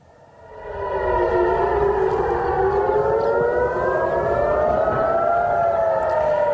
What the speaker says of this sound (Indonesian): Sirene terdengar meraung saat Israel dan Iran saling melancarkan serangan